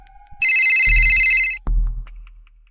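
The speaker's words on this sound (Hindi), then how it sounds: "एक रात दोनों रिजॉर्ट के गार्डन में बैठे थे, तभी देवेंद्र का फोन बजा" A phone rings in a short electronic trill that sounds for about a second, then stops, in a cartoon horror story set in a resort garden at night; a low thud falls under the ring and another follows after it.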